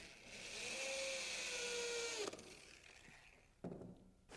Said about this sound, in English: Then I drill a pilot hole for some screws.